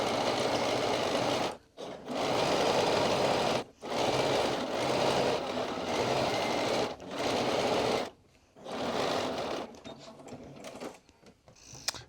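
A sewing machine stitches along the top edge of a pants waistband in long steady bursts with short pauses between, close and loud, the run growing more halting toward the end.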